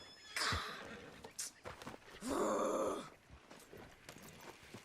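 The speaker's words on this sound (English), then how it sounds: "Damn horse acting up on me." A horse in the game Red Dead Redemption 2 whinnies loudly in a long, shrill neigh during a race, with brief snorts and a few hoof clops around it, fairly close.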